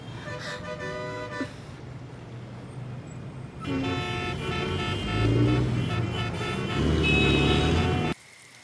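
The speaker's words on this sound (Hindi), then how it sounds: "ऊपर से शिट ट्रैफिक" Busy street traffic with several car horns honking, short toots and longer blasts over a steady road rumble, loud and close, with no speech.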